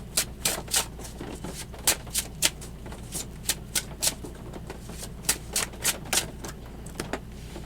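Tarot cards shuffled and drawn by hand, a series of crisp, close, irregular snaps and flicks over a quiet background.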